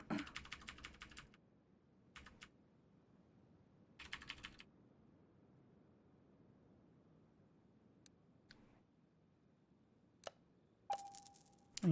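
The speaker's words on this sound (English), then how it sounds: "And yes, I have a loud keyboard, so sue me." Loud computer keyboard typing in short clattering bursts, separated by near-silent pauses and a few isolated key clicks, close and fairly quiet, with no voices.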